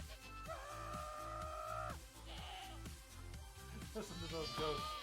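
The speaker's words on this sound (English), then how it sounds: "Listen to those goats." Goats in the Minecraft video game bleat in a string of wavering, drawn-out calls, one long cry followed by several shorter ones overlapping near the end, moderately close amid faint game background.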